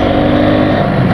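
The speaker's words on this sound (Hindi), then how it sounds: "ये डाली चौथी गियर" A motorcycle on the NH33 highway near Jamshedpur roars steadily as it accelerates after shifting into fourth gear, loud and close with wind and engine noise filling the moment.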